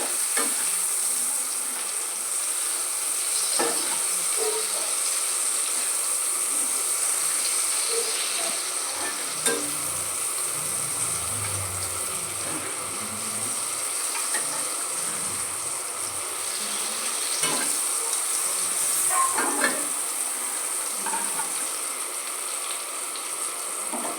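Flat beans and potatoes fry with sugar in oil, giving a continuous, even crackling sizzle that holds steady throughout, with occasional faint stirring scrapes and no talking.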